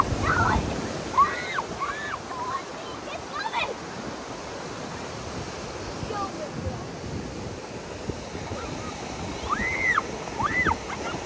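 Ocean surf rolls in at Varca Beach in South Goa as a constant broad wash with gusts of wind noise, while children's voices and shouts break in now and then over the waves.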